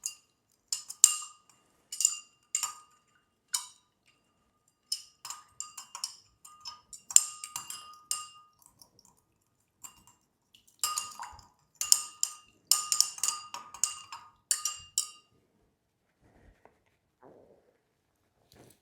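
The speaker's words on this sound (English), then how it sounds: "I like to mix that up as well with the stirring spoon" A stirring spoon clinks against glass while sugar cube is mixed in an Old Fashioned, bursts of quick light metallic ticks in rapid clusters separated by brief pauses, close and fairly quiet, then fading near the end.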